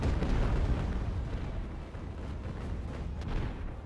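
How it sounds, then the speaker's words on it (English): Mortar fire in Ultimate Admiral: Age of Sail naval battle, a heavy booming blast with deep rumble that fades, followed by lingering low battle noise and further distant thuds. "Yeah, it's a mortar."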